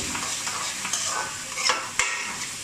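Sliced onions frying for aloo bhindi masala, a continuous hiss of hot oil under steady stirring, with sharp scrapes and taps of a spoon against the pan, loud and close with no talking.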